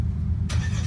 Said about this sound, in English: you need to press the brake and turn on the engine